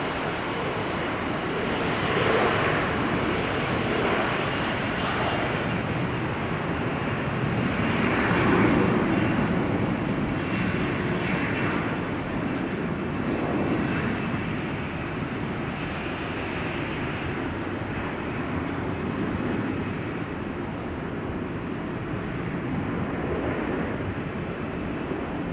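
An Embraer 175 jet at Amsterdam Schiphol Airport gives off a long, continuous engine rumble and whine that swells gently midway, heard from a moderate distance with no voices.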